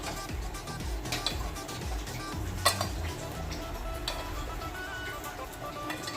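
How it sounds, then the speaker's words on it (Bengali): Vegetable roll filling being mixed by hand in a bowl gives soft squelching and scraping, with scattered light clinks of utensil against the bowl and one sharper knock partway through. "এবার দিয়ে এটাকে আমি একসঙ্গে মেখে নেব"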